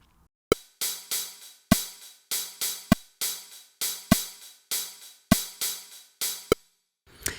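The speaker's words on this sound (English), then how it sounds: "And a super cool syncopated hi-hat pattern that sounds like this." A super cool syncopated hi-hat pattern: bright, crisp hi-hat strokes with short decays tick in an uneven, off-beat rhythm, some accented louder than others, played alone and close.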